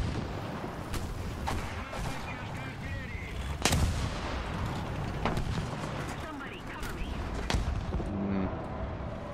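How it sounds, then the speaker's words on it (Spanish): Artillery shells pound down around a T-50 light tank in War Thunder, with repeated heavy blasts, some near and sharp, others dull and distant, mixed with scattered gunfire while a player talks throughout. "me lanza artillería encima"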